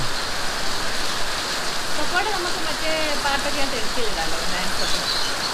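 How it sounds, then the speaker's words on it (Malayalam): Heavy rain pours down in a steady, dense hiss, close and continuous with no break, drumming on surfaces nearby. "ഇറങ്ങാൻ പോലും ഒക്കത്തില്ല, അത്രയ്ക്ക് നല്ല മഴയാണ്."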